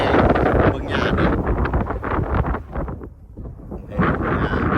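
Dry wind gusts across a mountainside, loud buffeting roar against the microphone that dips briefly before surging again, with a grassy rustle underneath.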